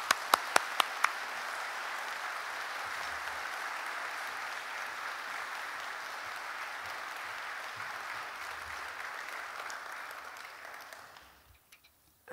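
Church congregation applauding to welcome a guest lecturer at a Sunday afternoon service: a few sharp separate claps at the start swell into steady, dense clapping that holds for about ten seconds, then fades out near the end.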